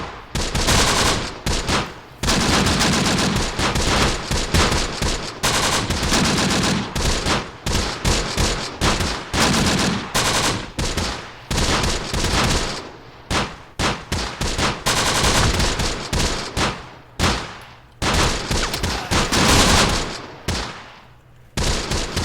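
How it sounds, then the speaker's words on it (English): Dense machine-gun bursts and mortar fire from a 30 cal team in the Close Combat: The Bloody First night battle of Operation Husky, loud and nearly continuous, with rapid rattling volleys and heavy booms that keep overlapping. "This 30 cal team is still doing great, guys. Still firing away. And I believe our mortar is also still firing."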